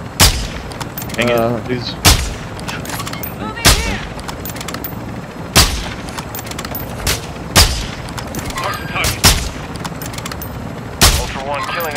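Repeated sharp gunshots in Call of Duty's Al Mazrah map, single loud reports spaced roughly every one to two seconds over a busy game soundscape, with players talking in between.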